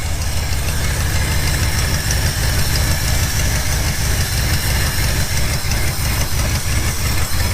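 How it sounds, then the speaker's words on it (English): 1987 Dodge D150 pickup engine idling after a cold start, a loud close rumble with a fast, even low-pitched pulse and slight knocking texture, steady throughout with no talking. "It's been sitting since yesterday, so this might be a little bit of a cold start"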